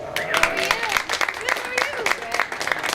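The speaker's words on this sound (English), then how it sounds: "Give these kids a round of applause." Crowd at a livestock show ring claps for young exhibitors, a scattered, uneven patter of hands lasting several seconds while a voice carries on over it.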